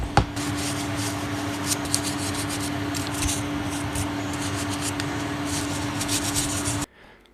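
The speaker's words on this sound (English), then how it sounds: "I'm using a fine bristle brush to remove any surface dust and debris" Fine-bristle brush scrubbing dust and debris off plastic Gunpla model kit parts, a steady close rubbing and scratching that runs continuously for about seven seconds before stopping abruptly, with no talking.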